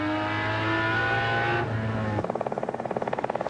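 Jaguar touring cars race on the mountain at Bathurst in 1985, a loud sustained engine roar holding pitch and then changing into a rapid pulsing drone as another car closes in, close and alone.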